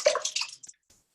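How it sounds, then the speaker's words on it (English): Elderberry tea is poured into a bag sitting in a glass bowl: a short splashy trickle of liquid, close and fairly quiet, ending in a few faint drips. "I'm just gonna pour it into this bag"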